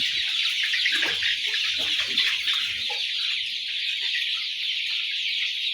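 Forty-day-old brown chickens cluck in a few low bursts early on, over a loud, steady high hiss that runs throughout.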